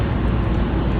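A large airplane passes overhead in the UK, its deep, loud engine roar filling a brief moment with a steady low rumble.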